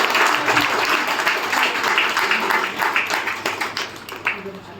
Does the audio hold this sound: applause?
yes